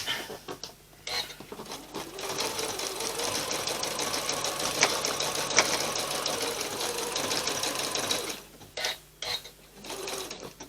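A sewing machine stitches appliqué onto a Valentine table runner, running steadily and fairly loud for about eight seconds, then stopping and starting in short bursts near the end.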